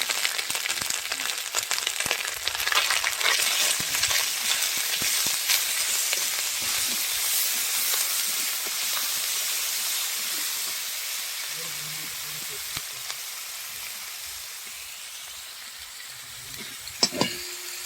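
Onion paste frying in a pan for a Bengali meat dish, giving a steady broadband sizzle and hiss that slowly fades over the length, with occasional stirring scrapes and a sharp clink near the end.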